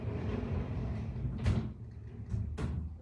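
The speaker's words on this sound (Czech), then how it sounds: "já ještě než začnem pořádně, zavřu jedny dveře" A door being closed indoors, with soft handling rustle followed by two sharp knocking clicks of the door and latch, quiet and close in a room with faint background noise.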